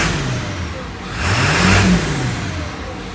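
Engine of a 1999 Ford F-350 pickup rising in a brief rev from idle and then settling back down, a steady mid-pitched motor hum close by with no talk over it.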